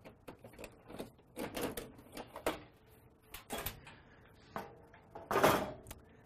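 The lid of a Lenovo ThinkSystem SR650 server is opened: a scattered run of close metallic clicks, latch snaps and plastic clunks, with one heavier clatter near the end and no speech.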